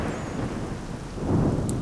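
Continuous heavy rain from the video game Assassin's Creed 3 pours in a dense, even hiss, with a low rumble building toward the end like distant thunder.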